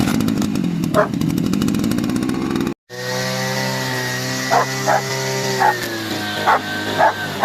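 An engine-driven machine mows grass on a lawn with a steady, buzzing motor drone, while a dog barks several times nearby over it.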